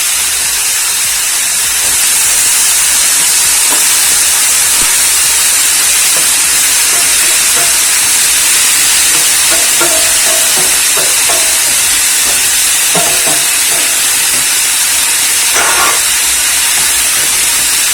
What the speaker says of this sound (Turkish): Gördüğünüz gibi kızarıyor böyle.